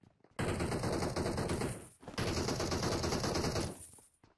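Sustained bursts of automatic gunfire in the PUBG Mobile battle royale game, loud and close, two long rattling volleys separated by a brief break, with no talking over them.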